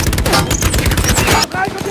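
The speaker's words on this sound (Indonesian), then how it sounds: "Don dan yang lain pun terus menembak sampai akhirnya semua amunisi habis" Rapid, loud bursts of machine gun fire rattle in a dense stream in a war movie battle scene, with a brief gap before the shooting resumes.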